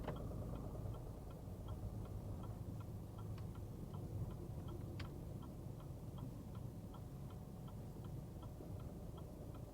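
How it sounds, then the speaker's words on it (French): A car's turn signal indicator ticks in a steady, even rhythm inside a vehicle during a driving lesson, faint and close under a low engine hum. "Clignotant, hein?"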